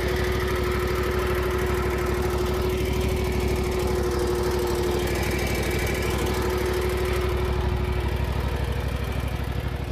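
Ferris IS2000Z zero-turn mower with 1,047 hours, engine running at a steady idle, a continuous close throbbing drone with no pauses or talk.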